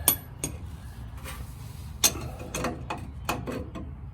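A ratchet wrench works loose a bolt during Bilstein 5100 shock installation on a Chevrolet Silverado, several quick metallic clicks and clinks spaced irregularly, faint against low background noise.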